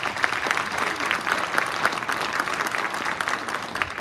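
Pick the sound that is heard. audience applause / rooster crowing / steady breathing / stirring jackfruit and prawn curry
audience applause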